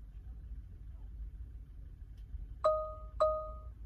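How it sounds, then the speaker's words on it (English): Tesla Model 3 unlocking its doors: two short, clear electronic chimes about half a second apart, heard near and alone over a low, steady background rumble. "it's unlocking the car doors"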